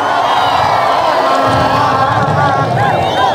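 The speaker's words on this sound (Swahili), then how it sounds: "Wapi makofi ya rais? Nione makofi." A large crowd at a rally in Buuri Constituency, Meru County, Kenya, roars close and loud with cheers, whoops and shouts, sustained throughout the few seconds without a break.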